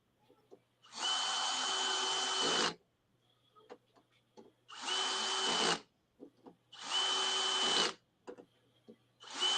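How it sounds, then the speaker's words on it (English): A power drill drives screws into rails on a RatRig V-Core 3 3D printer frame in three loud whirring bursts of about two seconds each, separated by quiet gaps with light handling clicks. "I'm using a power drill to screw in these rails"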